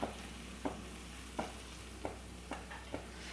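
Cooked rice being stirred into brinjal masala in a pan for vangi bath, heard as faint, soft scraping strokes about every half second over a low, quiet background.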